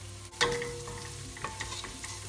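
Tomato paste and dried mint are stirred in a pot, a faint steady sizzle with a few spoon scrapes and a sharp clink near the start, close and quiet, with no talking.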